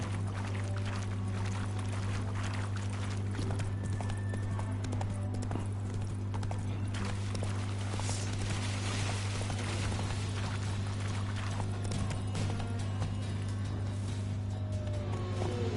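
Roach, a horse in The Witcher 3 video game, gallops with a continuous rhythmic clip-clop of hooves over a steady low hum, sustained at an even level with no talking.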